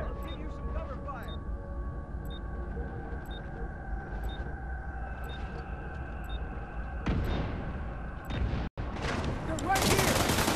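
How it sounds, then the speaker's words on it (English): Sustained gunfire in The Division 2 campaign firefight against Black Tusk at the Potomac Event Center, a steady rattling fusillade under a low rumble, with repeated ticking shots and a heavier burst of fire near the end. "I'll give you some cover fire!"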